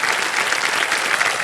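A studio audience on the Hindi quiz show Kaun Banega Crorepati breaks into dense, sustained applause for a correct answer, a loud even wash of clapping throughout.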